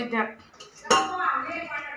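Pots and utensils clink and clatter in a home kitchen during cooking, with a sharp metallic knock in the middle and voices talking faintly around it.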